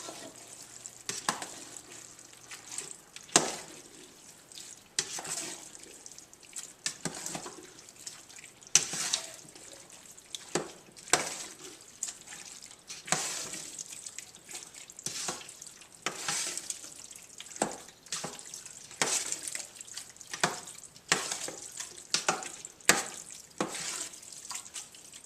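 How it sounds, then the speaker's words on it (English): Chili being stirred in a cooking pot, with repeated scraping and clinking strokes in an uneven rhythm over a soft simmering background. Close and moderately loud, no talking. "So we're going to stir this up."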